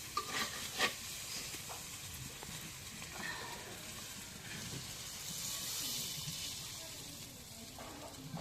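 Goat tripe frying in an oil-filled pan in a home kitchen, a soft continuous sizzle and hiss with occasional stirring clatter, quiet and low in level, with a voice talking now and then.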